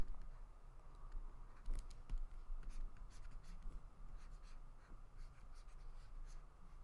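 Pen or pencil scratching on paper while noses are sketched, faint close strokes with soft irregular scrapes and brief taps over a quiet room.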